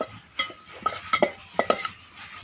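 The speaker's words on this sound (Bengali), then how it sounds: "বেসনটা ভালো করে ভেজে নেব।" Gram flour being roasted in a pan for Sindhi kadhi, heard as a series of sharp spoon-on-metal scrapes and clinks in an irregular rhythm, close by with little sizzle.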